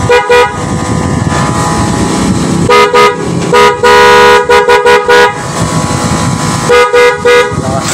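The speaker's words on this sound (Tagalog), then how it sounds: "At yung busina syempre, pantaboy sa mga aso yan, sa mga pusa na biglang tumatawid" Honda Click scooter horn honking in a series of short and longer toots, loud and close, with an idling engine running underneath and no talk.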